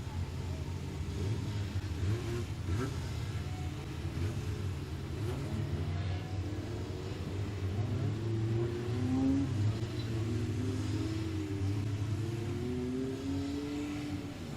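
Racing cars at Standlake Arena accelerating and revving together, a loud continuous engine roar with rising and falling pitch sweeps as the pack passes close by, no talk.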